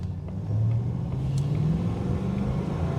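A 1960 Jaguar Mk2 sedan, a Beacham-modified example, drives along a road with a steady, close engine drone that swells slightly as it pulls, heard alone from inside the car without talking.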